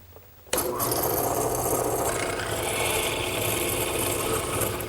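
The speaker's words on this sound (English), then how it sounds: "as the drill press pushes down, the drill will start the hole and the chisel will square it up" A hollow square chisel mortiser mounted on a drill press bores square mortises straight down into the top rail of a wooden garden bench, a sudden steady loud grinding and rasping drone that holds for several seconds.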